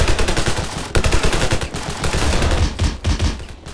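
Rapid automatic gunfire in the Ravenfield battle game, dense bursts of shots rattling almost nonstop at close range with brief pauses, loud and continuous.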